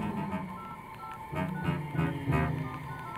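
Cell phone keypad tones beep in a cartoon, a quick series of close electronic dialing notes in rapid succession.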